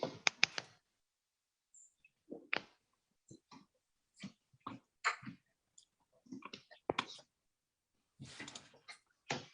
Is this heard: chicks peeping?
no